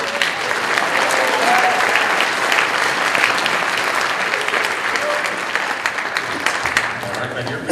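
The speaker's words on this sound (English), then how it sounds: "Round of applause for the gentleman." Steady, loud audience applause fills a college auditorium during an illusionist's stage show as a volunteer walks up, the clapping dense and sustained throughout with some crowd murmur.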